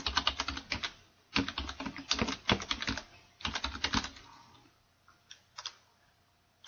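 Quick bursts of typing on a computer keyboard, entering random text into a new document: dense runs of close key clicks separated by short pauses, thinning to scattered taps near the end, with no talking.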